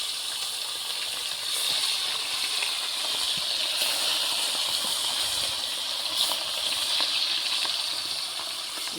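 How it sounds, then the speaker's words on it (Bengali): Fish sizzle in hot oil, a steady loud hissing with faint crackles and pops throughout, and no voices. "বাদ বাকি মাছগুলো ভেজে নিচ্ছি"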